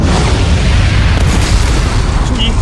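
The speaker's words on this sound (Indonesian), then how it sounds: "Anjir, itu meriam elektromagnetik." An electromagnetic cannon fires in an animated drama, a loud, sustained booming blast with broad rumbling energy that holds steady for a few seconds, heavy and close.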